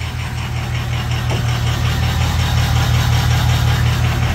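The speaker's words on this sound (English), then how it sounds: "Just sitting here at idle. I don't know if you can hear it. It's got like a slight hesitation in the idle." A Ford 6.0 Powerstroke diesel engine idles close up with a slight hesitation, giving a loud, steady low rumble and clatter that holds throughout with no talking.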